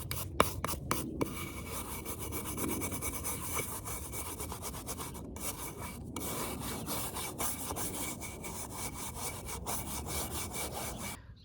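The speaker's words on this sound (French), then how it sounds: "j'ai fait un nettoyage de mes guêtres qui étaient remplis de sable. Donc j'ai utilisé cette petite brosse qui est vraiment pratique" A small brush scrubs sand off horse riding gaiters in rapid, close, raspy back-and-forth strokes, with brief pauses and a steady scratchy texture throughout.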